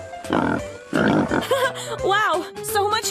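Cartoon pig grunts and oinks from an animal-themed mobile game, two bursts of snorting followed by squeaky, bouncy game effects and a short musical jingle, loud and close.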